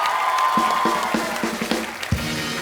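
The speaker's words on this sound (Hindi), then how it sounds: "तो एक बार ऋतिक भाई के डांस के लिए जोरदार तालियां हो जाए." Studio audience applause on a television comedy show set, with dense clapping and some cheering.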